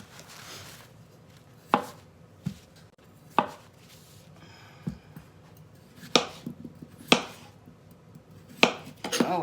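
A knife chops food on a board at breakfast, sharp distinct strikes arriving irregularly about a second or two apart over a quiet kitchen background.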